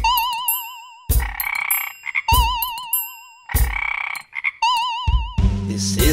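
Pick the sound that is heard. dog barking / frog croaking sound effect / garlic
frog croaking sound effect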